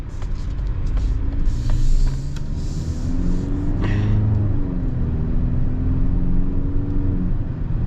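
2025 Mazda CX-70 plug-in hybrid pulling away from a standstill, a steady low engine rumble with a rising whir as it gathers speed, heard from inside the cabin with no talking.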